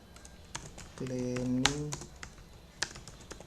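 Fingers type on a computer keyboard in quick, light clicks spread through the moment, while a person talks over them.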